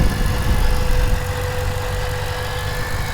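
A 2008 Ford Mustang Shelby GT500 with a cold air intake idles steadily and loudly up close, a smooth, even low rumble with a faint whine above it, with no voices.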